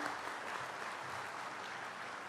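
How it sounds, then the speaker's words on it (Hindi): A crowd applauds at a mega health camp held at a hospital in Sadupur, a steady wash of clapping that stays faint and distant throughout, with no voices over it. "जोरदार तालियां।"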